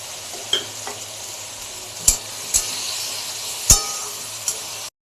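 Spice paste and whole spices fry in a pan for Bengali rui fish curry, producing a steady low sizzle with several sharp clinks of a metal utensil against the pan at irregular intervals, close up, with no talking.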